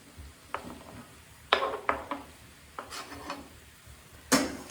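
Garlic cloves and chopped onions dropped into a dry pan, a few scattered scraping and tapping knocks, close and fairly quiet.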